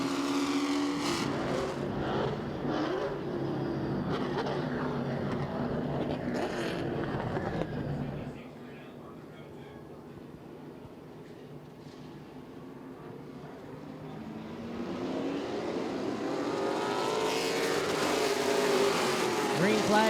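Pro late model race cars at Southern National take the green flag, their engines roaring loud and steady, then easing briefly before swelling again as the pack accelerates. A commentator talks over the whole run.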